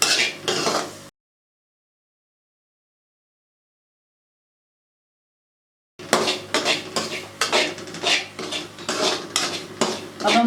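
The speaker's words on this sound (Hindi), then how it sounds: "साथ हम अपनी सूजी को ध्यान से भूनेंगे।" Semolina is roasted and stirred in a metal pan, with repeated close scraping and clinking of a spoon against the pan in short bursts, broken by a long stretch of silence and no talking.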